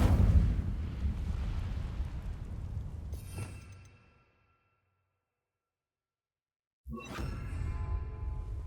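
In the Hogwarts Legacy video game, an Incendio fire spell sends out a loud, roaring burst of flame that fades into silence. A second fiery rush follows a few seconds later.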